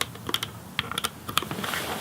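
Quick typing on a Koolertron programmable split mechanical keyboard, with rapid, irregular close-up key clacks following one another without pause.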